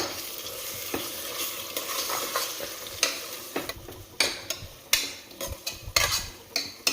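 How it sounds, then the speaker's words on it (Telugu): A spoon stirs gongura paste through fried onions in a hot pan, soft sizzling underneath and a run of sharp scraping taps against the pan that grow louder and more frequent. "ఆనియన్స్ ఫ్రై అయ్యాక గోంగూర పేస్ట్ వేసుకొని మంచిగా కలుపుకోవాలి."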